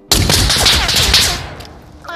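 A flashbang grenade bursts in a backrooms video game: a sudden, loud broadband blast that holds for about a second, then fades into a ringing tail, with voices faintly underneath.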